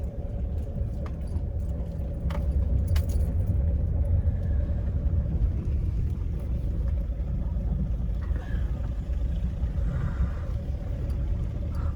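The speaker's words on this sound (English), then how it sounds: "Just driving round to my plot now" A car drives along, a steady loud low rumble of engine and road noise filling the cabin with faint rattles and clinks over it, and no one speaks.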